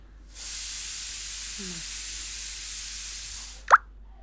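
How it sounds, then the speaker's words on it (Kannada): A pressure cooker cooking rice lets out a loud, steady hiss of steam for about three seconds, then stops with a sharp clunk, in a home kitchen. "ಕುಕ್ಕರ್ ಇಟ್ಟಿದೆ ನಾನು ಇವತ್ತು ಅನ್ನಕ್ಕೆ ಕುಕ್ಕರ್ ಕೂಗ್ತಾ ಇದೆ"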